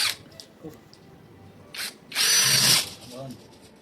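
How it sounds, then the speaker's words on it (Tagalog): A power drill bores holes in a metal wall angle during a ceiling metal furring installation. A few short, faint whirs come first, then one loud, near, sustained grinding burst lasting under a second. "bubutasan muna natin ang ating wall angle bago natin ikabit"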